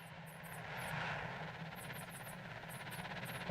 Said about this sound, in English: Man, that helicopter's taking a long time.